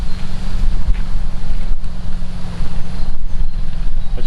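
A steady headwind buffets the microphone on a disc golf course, a loud, continuous rushing roar with gusty swells and no talking.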